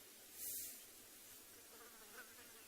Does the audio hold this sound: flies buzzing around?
yes